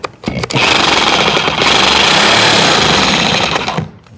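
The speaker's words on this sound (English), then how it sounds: "I have a thin blade on my reciprocating saw here. And it's a metal blade to cut those nails." Reciprocating saw fitted with a thin metal-cutting blade slicing through nails behind a tile backsplash, a loud, steady buzzing rasp running about three seconds without a break after a brief start, then stopping.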